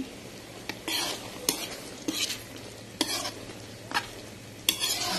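Sautéed chayote with sardines is stirred in a pan over a soft, constant sizzle. The spoon scrapes and clinks at a steady rhythm about once a second. A faint whisper-like sound passes briefly.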